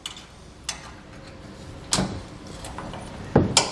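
A trim tool pries plastic fasteners free under a truck bed, making a few sharp plastic clicks and pops spread over several seconds against a quiet background hum.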